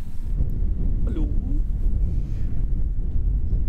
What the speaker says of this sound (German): So, der Wind nimmt ordentlich zu und es zieht zu.